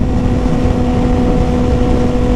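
A 2021 Kawasaki Ninja ZX6R fitted with an M4 Street Slayer slip-on exhaust runs at a steady, even idle, close and loud, with a constant low engine drone and no voices.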